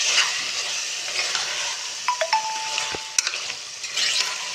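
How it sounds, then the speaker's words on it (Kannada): Veg biryani mixture with thick-cut potato pieces stirred with a ladle in a pan, giving a soft continuous scraping and sizzling, with a few brief clinks of the ladle against the pot. "ಈ ಥರ ಹಾಕ್ಕೊಂಡು ಅದನ್ನು ಸೌಟಲ್ಲಿ ಥರ ಸಿಕ್ಕೊಂಡು ಮಿಕ್ಸ್ ಮಾಡ್ಕೋಬೇಕು ಚೆನ್ನಾಗಿ ಮಿಕ್ಸ್ ಮಾಡ್ಕೊಳ್ಳಿ"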